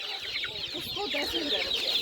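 Chickens, Master Gray and Spanish breeds among them, cluck and chatter steadily at an animal market in Khryplyn near Ivano-Frankivsk, with overlapping bird calls and faint background market noise.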